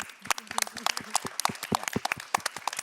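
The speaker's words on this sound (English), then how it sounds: "That applause was for our youth" An audience applauds at a talk on Indigenous Peoples' food and knowledge systems. The clapping is scattered and moderately quiet, made of sharp individual claps that come irregularly rather than as a full roar.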